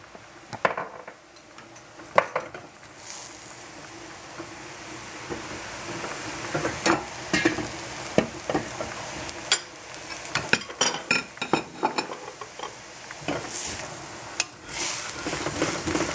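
Swiss chard stir-fried in a pan over high heat, a steady soft sizzle with scattered sharp clinks and scrapes of a utensil stirring against the pan, no talking.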